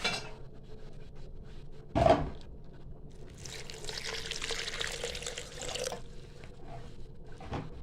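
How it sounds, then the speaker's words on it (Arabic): A brief splash and clatter, then several seconds of steady pouring water trickling into a container of seasoned meat and onions, with light kitchen clinks around it. "وهحط عليهم شويه ميه واضربهم"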